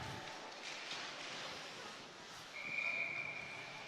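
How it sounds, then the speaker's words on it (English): A referee's whistle sounds once at a high school ice hockey game, a steady shrill tone lasting about a second over a noisy rink crowd. "And we got a whistle blown."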